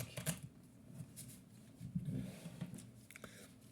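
Uno cards shuffled by hand in a quiet room, soft papery riffles and taps in short bursts, faint and close.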